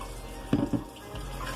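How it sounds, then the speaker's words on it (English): Water is poured into a flour and gravy mix while making dumplings for stew peas, with a short splashing burst followed by soft stirring noises in a quiet kitchen. "So you add your water"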